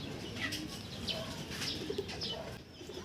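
Racing pigeons return home to their loft, with soft coos and short bursts of flapping wings among faint chirps, all low in level over a light outdoor background.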